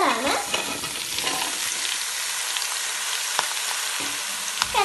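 Chopped mixed vegetables for a pickle hit a hot pan and sizzle loudly and steadily, with stirring scrapes and clatter breaking through the crackle close by.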